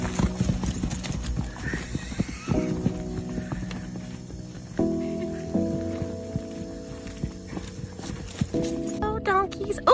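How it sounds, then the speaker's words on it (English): Donkeys on a farm, with clip-clopping hooves and a brief braying whinny, heard under steady music and voices. "Oh, donkeys."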